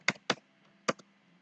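Typing on a computer keyboard: three crisp, close key taps, two in quick succession and then one more after a short pause, in a quiet room.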